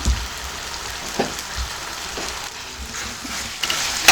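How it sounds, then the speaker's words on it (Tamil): Onion masala with turmeric, chilli powder and coriander powder sautés in oil for a brinjal gravy. A soft, even hiss like light rain carries a few faint stirring knocks. "நல்லா பச்சை வாடை போகிற அளவுக்கு வதங்கட்டும்"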